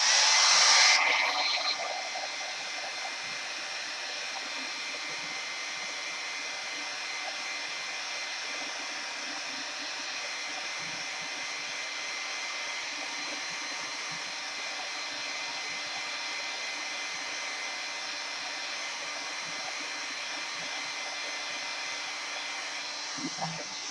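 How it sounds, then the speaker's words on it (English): A hair dryer blows continuously at a steady, high-pitched whir, starting with a brief louder burst and holding an even drone throughout. "I've got my hair dryer here."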